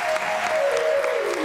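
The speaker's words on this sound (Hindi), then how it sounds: "साकिब अली ताजी ब्रदर्स, के लिए बहुत सारी तालियां" An audience applauds the Taji Brothers qawwals on a television entertainment show, a full, steady round of clapping from a crowd, with a sustained tone running underneath.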